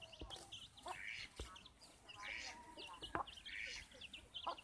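Chickens cluck and squawk repeatedly at moderate distance, several birds calling over one another with a few sharp thuds in between.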